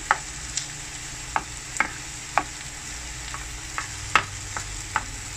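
Tomato fries in a pan under a soft, steady sizzle, while a spoon stirs it in regular sharp taps and scrapes against the pan roughly every half second. No one speaks.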